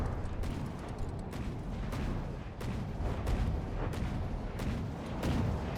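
Ship guns firing in a naval battle video game, engaging Turmfalke destroyers: repeated booming salvos over a dense, continuous rumble of battle noise, with no talking.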